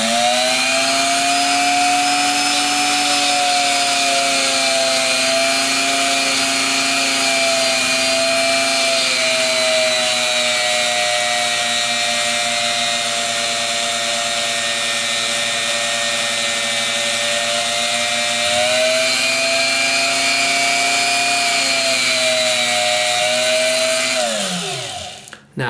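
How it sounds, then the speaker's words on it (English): A Dremel rotary tool on its lowest speed setting whines steadily and close up while carving a wooden pinewood derby car, holding a constant pitch with slight dips before winding down at the end. "We want it on the lowest setting that we can get on a Dremel tool"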